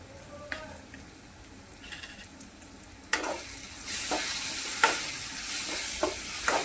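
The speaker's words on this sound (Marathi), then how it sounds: "हे चांगले मसाले भाजून घ्यायचे आहेत।" Powdered spices, coriander, turmeric and onion-garlic masala, roasting in a pan for egg bhurji, starting with faint scraping, then a louder sizzle with repeated stirring scrapes.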